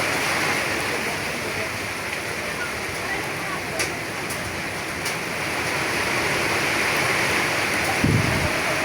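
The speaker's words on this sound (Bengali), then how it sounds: "বিশাল মশালদারে বৃষ্টি হতেছে আজকে।" A downpour hammers Kabirpur in Dhaka, a thick, constant roar of rain close by with a few faint clicks and a brief thump near the end, while a voice speaks over it.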